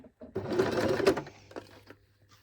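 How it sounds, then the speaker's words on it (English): A sewing machine stitches a hem, opening with a short back stitch: a loud, close run of rapid mechanical whirring and clatter for about a second, then fading to softer intermittent clicks and a low hum. "So we start, as per always, with a back stitch."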